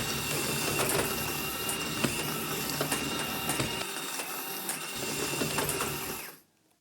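A motorized cat toy runs its movement pattern, a loud, steady mechanical whirring and clicking close by with brief rattling ticks, then stops abruptly near the end.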